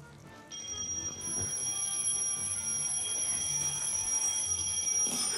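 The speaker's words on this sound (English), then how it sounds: "you need to make sure at least one alarm is ringing by the end of the challenge" Electronic alarm ringing steadily and loudly during a children's challenge game show, a sustained high tone with bursts of clutter and movement beneath it, no talking.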